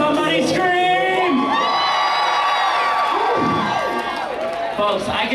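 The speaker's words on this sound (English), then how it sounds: "All right, somebody scream!" A crowd of passengers aboard a cruise ship screams and cheers loudly together, a sustained roar of whoops and shouts that carries on without a break.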